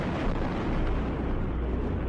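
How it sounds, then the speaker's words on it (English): Deep, sustained roar of an explosion's aftermath caught by a dashcam, a dense broadband rumble that stays loud and steady with no pauses or voices. "we just had a huge explosion"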